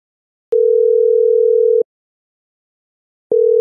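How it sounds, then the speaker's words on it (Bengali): A steady single-pitch ringback tone sounds in long beeps, about a second and a half each, separated by silence. "আগে ফোন করি"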